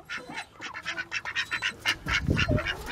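Ducks quack loudly and rapidly, a busy overlapping chorus of nasal calls close by, with a deeper honk or two mixed in.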